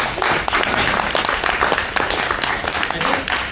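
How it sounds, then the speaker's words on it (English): A small audience at a Toastmasters meeting claps for a speaker, a steady close patter of hands that carries through the whole stretch. "Give him a round of applause."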